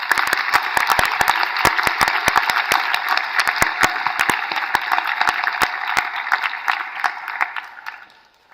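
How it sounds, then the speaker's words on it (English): Audience applause at a James Cook University graduation ceremony in Cairns: steady, dense clapping from a large crowd with sharp individual claps standing out, holding for about eight seconds before thinning and fading at the end. "please show their appreciation by joining with me in a round of applause for Dr. Cam Charlton."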